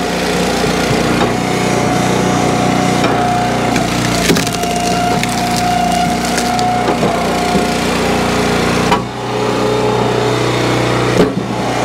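An Eastonmade Ultra log splitter drives through knotty, ugly firewood, its engine droning loudly and steadily while the wood cracks and splinters in sharp bursts, with a brief dip as a piece gives way.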